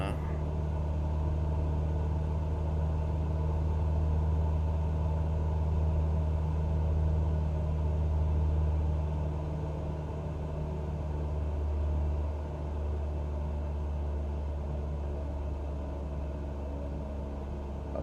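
A Cessna light aircraft engine in Microsoft Flight Simulator 2020 holds a constant, droning hum with a deep steady tone. The drone stays level and uninterrupted, easing only slightly partway through.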